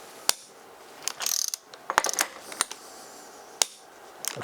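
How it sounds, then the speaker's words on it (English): A ratchet wrench clicks in short bursts and single snaps while tightening flange bolts on a Famos training rig, close and alone without talk, with brief pauses between strokes. "Okay, so I'm going first bolt 7, then bolt number 3."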